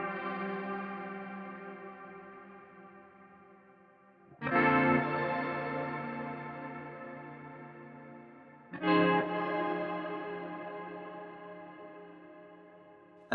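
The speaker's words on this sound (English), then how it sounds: "you can hear some shimmer going on" A BOSS GT-1000CORE shimmer delay effect on a strummed acoustic-pop guitar: three sustained chords ring out, each struck loudly and then swelling into bright, pitch-shifted echoes that slowly decay.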